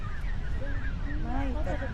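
Geese honking outdoors in Calgary, their calls likened to ducks, a string of rising and falling honks over steady low background rumble and wind, with people talking nearby.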